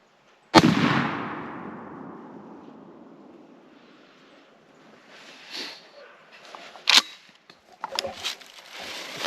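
A single loud, sharp blast from a Mossberg 500 tactical turkey shotgun fired outdoors at a target, ringing out and decaying over a couple of seconds, followed by faint clicks and handling noises.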